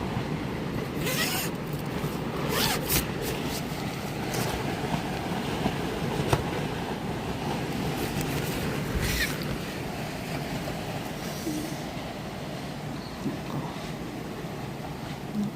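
Steady roaring wind from a storm at a campsite buffets a tent continuously, with occasional flapping and rustling gusts against the fabric, loud and close throughout.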